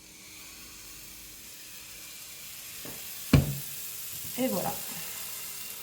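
A pancake cooking in a little olive oil in a pan that is not nonstick, a soft steady sizzle with a sharp utensil knock and scraping clatter near the end, followed by a brief spoken remark.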